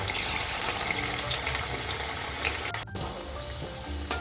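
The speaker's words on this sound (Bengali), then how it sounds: "এখন আমি পকোড়াগুলো ভেজে নিব" Egg pakoras frying in hot white oil in a wok over a medium gas flame, a steady dense sizzle throughout with a brief break near the middle before it resumes.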